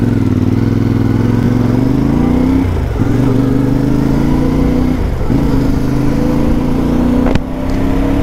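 A CFMOTO 450 MT motorcycle accelerates at full throttle onto a highway on-ramp. The engine drone rises steadily in pitch, dips briefly at a gear change and climbs again, loud and close, with wind rumble and no talking.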